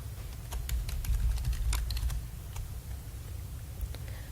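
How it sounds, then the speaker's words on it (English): Someone types a username on a computer keyboard, a quick close burst of light key clicks that fades to scattered taps, with no one talking. "you can type the username directly into the Assigned To box"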